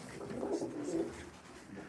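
Low, soft cooing of pigeons, a couple of throaty coos repeating close by over a steady background hum.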